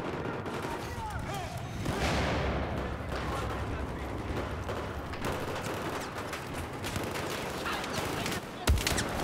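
Shotgun blasts and other gunfire crack through a Battlefield 4 multiplayer match, in irregular bursts over constant battlefield noise, with a loud sharp report near the end.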